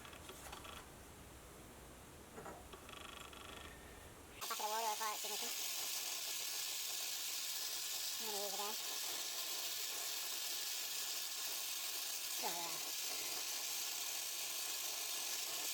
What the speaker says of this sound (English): I just brazed that with the oxypropane torch